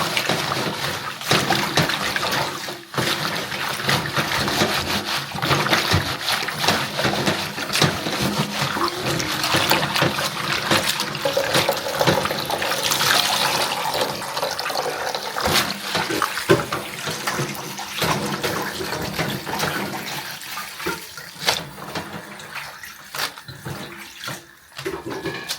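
Tap water runs steadily while guava leaves are washed, a continuous close rushing splash with small irregular clatters and shifts, no talk.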